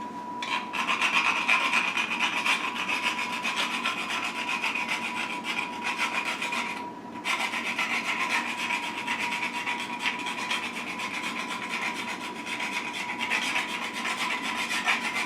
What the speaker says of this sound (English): You just scrape it across and just keep moving it around so you have nutmeg covered on top of the pie.